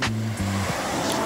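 Steady broadband rush of water flowing in a river or stream, close and continuous, heard during a motorcycle ride stop with no talking.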